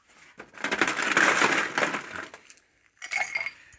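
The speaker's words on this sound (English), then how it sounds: "So I'm just going to ice this up now." Ice cubes tumble into a cocktail shaker with a burst of crunching, clinking rattles, a pause, then a shorter second clatter of ice.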